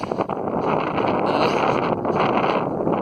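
Wind buffets a microphone during a 12-hour night running race in November, a loud continuous broadband roar with gentle swells and no voices.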